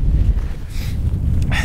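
Steady wind gusts buffet the microphone on the slopes of Llaima volcano during a climb, with a continuous low rumble and rushing hiss that swells and eases throughout.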